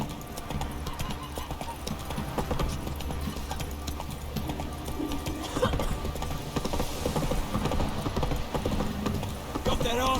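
Roach, a horse in The Witcher 3, gallops with steady, loud hoofbeats close by, mixed with game sounds and a brief whinny, while a voice talks over the ride.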